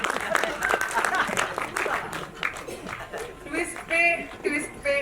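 An audience claps at a Marathi film trailer launch event, with bursts of applause early that ease off while a host speaks into a microphone over the crowd.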